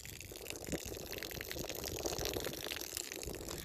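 Rainwater running through house gutters and a downspout, a constant close splashing wash with scattered drips, steady and moderately loud throughout with no talking.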